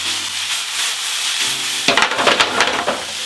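Onions, garlic and meat are stirred and turned in a hot pot, a steady sizzle with scraping strokes that grow louder and more rhythmic partway through.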